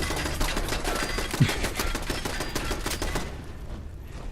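Gunfire in the video game Fallout 4, a rapid burst of sharp shots in quick succession at moderate loudness, followed by a brief fade toward quiet near the end.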